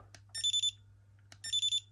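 Two quick bursts of high, rapid electronic beeping, each a tight cluster of three or four chirps, separated by a short pause, close and clear.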